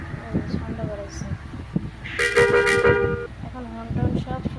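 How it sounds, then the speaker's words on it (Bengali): A bus horn from the game Bus Simulator India sounds as a sustained honk of about a second in the middle, set among talking and light background noise. "এখন হর্ন টর্ন সব শোনা যায়।"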